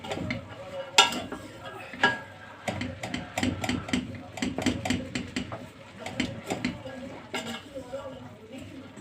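Two large sliced onions are stirred in a frying pan with repeated scraping and knocking strokes in an uneven rhythm, close and fairly loud over a low sizzle, with a voice talking at times.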